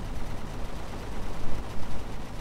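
A character in the video game Empyrion Galactic fires a gun in rapid, dense bursts. The shots blur into a continuous noisy rattle, fairly loud and steady throughout.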